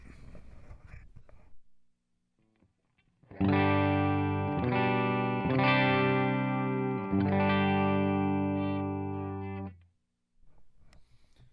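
A loud electric guitar chord through a 100-watt Marshall Plexi amp, strummed and held, shifting through several chords with a slightly driven tone, with quiet room noise before and after.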